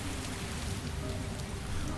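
Steady rain falling in the fantasy role-playing game Torment: Tides of Numenera, a continuous even hiss of rain on surfaces with no talk over it.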